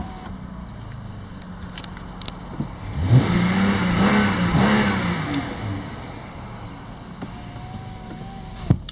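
A 2016 Dodge Charger SXT with a 3.6-litre V6 revs up in the middle, its engine rising and falling in a smooth mid-pitched swell, then settling back to a quiet idle hum.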